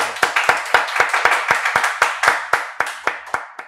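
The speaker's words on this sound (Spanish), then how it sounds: "Un aplauso de todo el equipo de la gente." Hand clapping from a small group, a steady rhythm of about fifteen sharp, distinct claps over a few seconds, close and clear with no talk over it.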